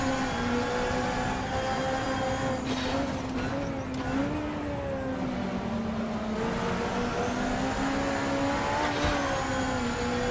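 Steady drone of 1970s DRM BMW racing car engines in the sim racing game Assetto Corsa, with pitch rising and falling as gears shift, a continuous loud mechanical roar with no pauses.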